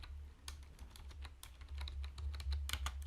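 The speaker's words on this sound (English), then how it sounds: "I'm just typing it as IP" Quick, irregular clicking of keys on a computer keyboard, close and fairly soft, typed in short bursts with brief pauses and no talking.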